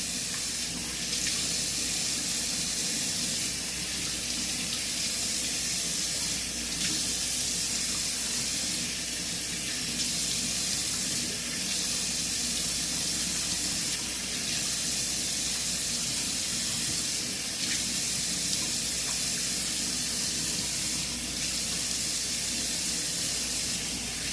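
Steady running sink water splashes without a break while a face is rinsed during a skincare routine, a close, continuous hiss holding even for the whole stretch.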